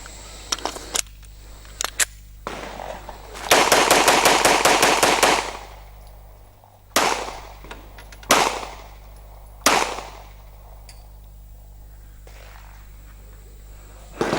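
A Walther PPQ M2 9mm pistol fired outdoors, with sharp single shots, then a fast rapid-fire string of about a dozen cracks, followed by several spaced individual shots ringing out loudly.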